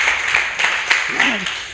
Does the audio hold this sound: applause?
yes